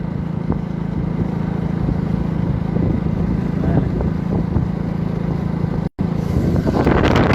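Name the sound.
power tiller plowing a field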